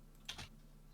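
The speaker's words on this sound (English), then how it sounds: "Wow, where's my typing?" A couple of soft computer keyboard keystrokes tap in quick succession close by, faint against a quiet background hum.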